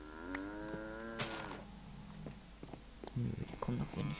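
Cows mooing in a Minecraft farm game with the My Ponyhof mod, a long drawn-out moo followed by a few shorter animal calls and clicks, under a voice speaking German.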